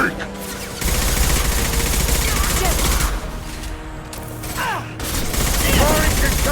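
Squad gunfire rattles through a firefight in the video game Mass Effect 2, sustained and loud with dense overlapping shots, while voices call out commands over the shooting.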